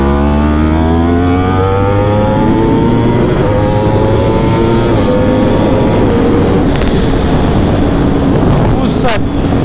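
Yamaha R1M sport motorcycle accelerating hard on the Mandalika racing circuit: a loud, continuous engine roar climbing in pitch through the gears, with heavy wind rush throughout.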